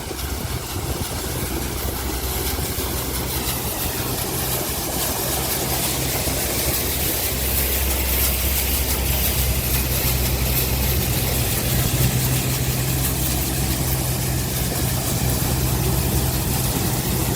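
A 35 hp tractor drives a chickpea thresher, its engine holding a steady, loud drone with a low rumble under a continuous mechanical whir. The sound runs unbroken from start to finish, with no voices.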